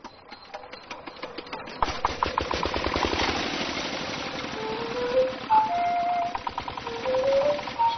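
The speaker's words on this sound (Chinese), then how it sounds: "这个拖拉机的声音就好像下课铃一样" A tractor engine runs on a wild boar farm in the hills, chugging in a fast, rhythmic pulse at close range, with some higher tonal squeals joining in during the later seconds.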